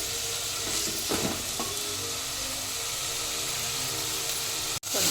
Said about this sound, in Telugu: పుదీనా, కొత్తిమీర అన్నీ వేసుకొని మంచిగా ఫ్రై చేసుకోవాలి.